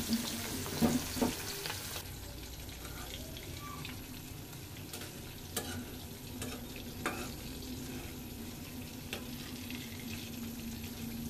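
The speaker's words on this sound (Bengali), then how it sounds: "ইলিশ মাছ ভাজাটা বসাই দিব" Hilsa fish fries in hot oil in a kadai in a home kitchen, a steady faint sizzle throughout, with a few soft clinks and stirring sounds early on.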